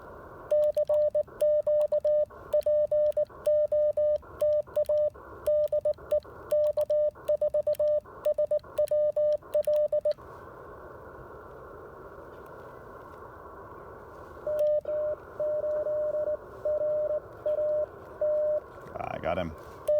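Amateur radio band activity on an Icom IC-705 at an outdoor POTA activation: a steady keyed tone chops on and off in rapid Morse-like bursts over hissy band noise, pausing into plain static midway before the beeping resumes.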